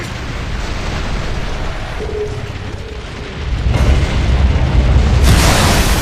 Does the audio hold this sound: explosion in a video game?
yes